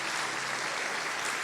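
Church congregation applauding, a dense steady wash of clapping at moderate level, no talk.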